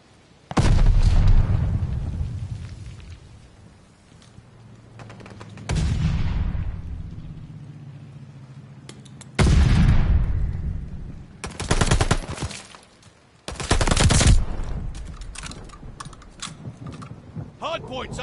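Heavy gunfire erupts in loud broadband bursts around a contested hardpoint in a multiplayer shooter video game, with gaps between volleys and a game announcer's voice heard in between.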